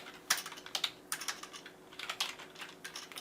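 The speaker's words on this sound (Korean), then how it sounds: "이 키보드는 좀 바꿔야 될 것 같아요." Someone types on a computer keyboard in clustered bursts of close, crisp key clicks separated by brief pauses, with no talking.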